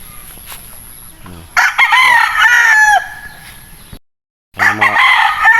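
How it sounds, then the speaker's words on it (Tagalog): Derby gamecocks crow loudly and close at a farm, two long warbling cock-a-doodle-doos separated by a brief silence, with faint clucking from other fowl in the background. "Ano yung mga pang derby ng manok idol"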